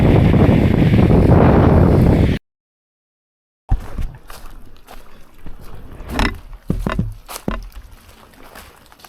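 Strong February wind buffets the microphone in a loud roar while smallmouth bass fishing on the Youghiogheny River, cuts out briefly, then returns as gustier, patchier rumbling with sharp bursts.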